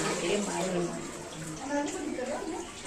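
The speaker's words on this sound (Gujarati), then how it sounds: "જળનો અભિષેક થઈ રહ્યો છે" Water pours continuously over a Shiva lingam in a cave temple near Rajkot, a steady splashing wash heard close with echoing chatter and voices of visitors in the background.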